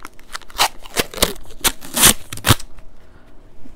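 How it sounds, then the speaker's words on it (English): Adhesive tape pulled off the roll in a quick series of sharp ripping strips, close and fairly loud, while a plant pot is taped to cardboard for shipping. "I'm going to tape the pot to the cardboard so that it doesn't move around inside the cardboard."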